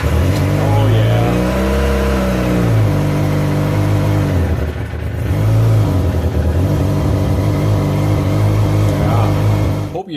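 Motorcycle engine running on a new battery with the choke on and in neutral: a loud, close idle that rises and falls in a few revs, with a short dip midway.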